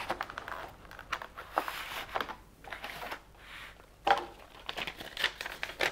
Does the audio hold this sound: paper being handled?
yes